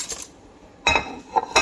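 Plates and cutlery clink close by as food is dished out at a birthday meal, a few sharp ceramic and metal knocks in quick bursts with brief pauses between.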